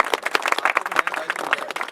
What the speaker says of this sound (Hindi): एक बार तालियों से आप इनका भी स्वागत अभिनंदन।